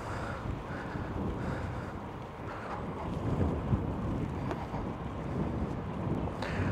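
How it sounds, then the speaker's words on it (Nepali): Wind rushes steadily across the microphone as a bicycle rides along a canal path, a continuous broadband roar with small gusts and faint rattles. "अब सिरिरी हावा आउँछ"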